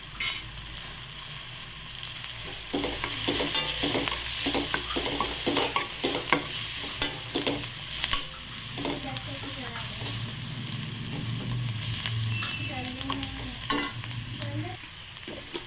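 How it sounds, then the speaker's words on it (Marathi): Brinjal mixture with coriander being sautéed in a pan: a low sizzle under repeated scraping and clattering strokes of a spoon stirring, close and uneven in rhythm, with faint voices now and then. "त्याला पण असं परतून घ्यायचं आणि कोथिंबीर घालायची."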